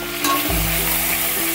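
Diced potatoes and chicken fry together in a pan, a loud dense sizzle with a brief low thud as the food is moved, continuing steadily.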